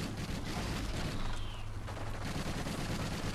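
Continuous heavy gunfire in Call of Duty: dense, overlapping bursts and rattling shots, loud and sustained, with rumbling explosions throughout.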